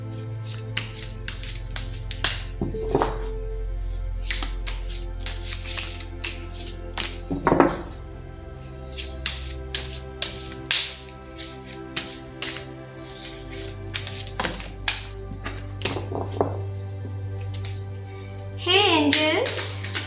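Tarot cards are shuffled in quick crisp riffles and flicks, scattered clicks spread through the stretch, under someone speaking softly with a low steady hum behind.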